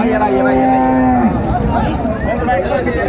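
A bull gives a long, loud, close moo that drops in pitch at the end, with crowd chatter and bustle of a busy Eid cattle market in Dinajpur, Bangladesh, continuing underneath.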